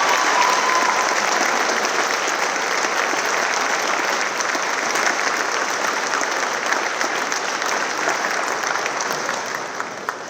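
Sustained crowd applause at a high school graduation ceremony for the class valedictorian, a steady wash of many hands clapping that fills the room and eases slightly toward the end.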